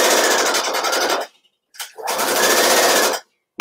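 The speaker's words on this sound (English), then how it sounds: "So we're going to sew this whole front seam with a quarter of an inch seam allowance." A domestic sewing machine stitches the front seam of a garment topper in two long, loud, steady runs separated by a short pause and a brief burst, with no talk.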